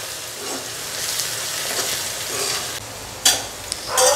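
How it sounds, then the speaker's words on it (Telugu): Fish curry mixture for Andhra chepala pulusu being stirred in a pan, giving a soft continuous scraping and light sizzle with a few sharper clinks near the end, close and moderately loud. "ఇంకా ఇది మంచి కలపాలి"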